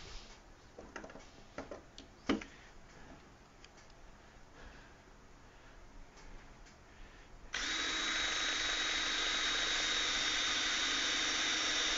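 Power drill driving screws while working from small scaffolding: faint ticks and knocks at first, then a sudden steady loud motor whir that runs continuously for the last few seconds.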